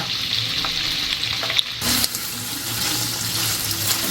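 Boiled loitta dried fish fries in a pan with a steady, crackling sizzle, broken briefly by a clatter of stirring.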